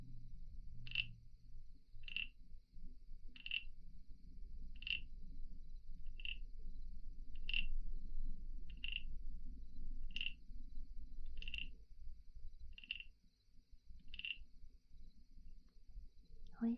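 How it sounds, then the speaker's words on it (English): A frog croaks in a steady series of about a dozen short, evenly spaced calls roughly every second and a half, close and clear over a quiet low hum, with no talking. "Always nice to hear from our frog friend."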